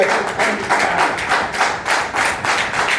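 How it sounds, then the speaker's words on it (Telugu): Congregation clapping in praise at a Sunday church service in a steady, fairly fast rhythm of claps throughout, loud and near, with no talk over it. "చప్పట్లు కొడదాం దేవుని స్తోత్రం."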